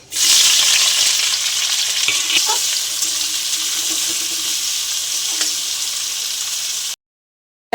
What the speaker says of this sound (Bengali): কড়াতে একটা শুকনো লঙ্কা দিয়ে দিলাম, 2টো এলাচ দিলাম, 2টো দারচিনি টুকরো দিলাম, গোটা জিরে দিয়ে দিলাম